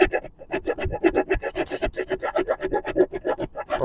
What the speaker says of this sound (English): I'll create a pocket with the round rat tail, because that's about the only thing that'll fit in there nice